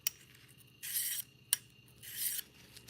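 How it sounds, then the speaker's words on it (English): Knife blade stroked across a pink whetstone, giving two longer rasping scrapes with sharp clicks of the blade set down before and between them, close and fairly quiet. "taking my pink stone, I flip the burr over, make sure it's flat"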